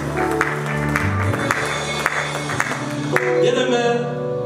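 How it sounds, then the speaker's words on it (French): A church congregation applauds during a service, scattered clapping mixed with voices and a sustained musical tone underneath, moderately loud. "Nous applaudissons le Seigneur."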